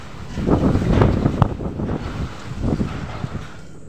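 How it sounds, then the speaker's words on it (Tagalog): Strong gusts of wind buffet an outdoor microphone on a windy, dusty day, a steady loud rumble that swells in bursts with no voices over it. "So windy today. Look at, guys. So windy and dusty."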